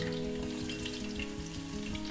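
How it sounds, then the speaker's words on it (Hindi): Chicken pieces frying in hot oil for a restaurant-style chilli chicken give a steady, dense sizzle with crackling pops throughout, close and moderately loud with no talking. "ऐसे ही हम सारा चिकन फ्राई कर लेंगे।"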